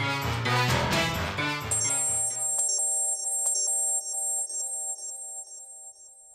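An incoming call's phone ringtone plays as a repeating electronic melody, rising out of a dense musical passage and then continuing alone with bright, evenly pulsed tones that gradually fade.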